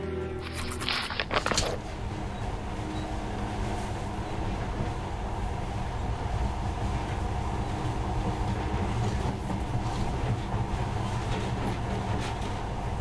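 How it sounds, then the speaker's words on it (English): Monorail train from the video game Metro: Last Light rolling steadily along its track, a continuous low rumble with rhythmic clattering, preceded by a brief sharp burst near the start, loud and sustained throughout with no talk. "In the past, trains were ordinary things, but now, this monorail seems magic, doesn't it?"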